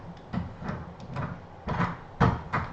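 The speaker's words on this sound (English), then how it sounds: "they know how to open the door" A door is worked open with several muffled knocks and rattles of the knob and latch, moderately close, in an indoor room.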